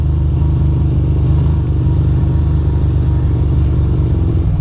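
A Ducati motorcycle rides through the streets of Dumbo in New York City, its engine a steady low rumbling drone held close and loud throughout with no talk.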